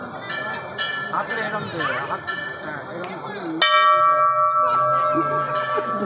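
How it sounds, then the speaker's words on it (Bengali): A bell at an ashram temple is struck once more, loud and near. Its bright tone keeps ringing while people chatter before and after the strike. "আরে আবার বাজা"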